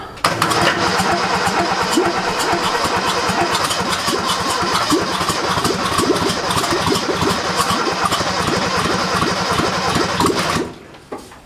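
A 1977 F10's engine turns over and catches, then runs loud and steady with a dense mechanical chatter for about ten seconds before cutting off abruptly near the end.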